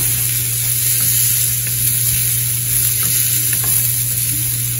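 Onions frying in a pan for a radish curd chutney, a steady loud sizzle with continuous hiss throughout, close up, with faint stirring scrapes and no talking.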